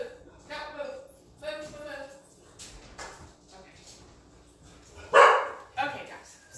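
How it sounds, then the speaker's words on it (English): A few dog barks ring out at mid-distance, scattered across a short stretch, with a louder yelp near the end, mixed with faint background movement. "I don't want them to continue barking"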